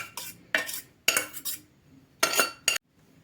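Cabbage, rice and minced meat are mixed in a bowl, heard as several bursts of spoon scraping and clattering against the dish separated by short quiet pauses.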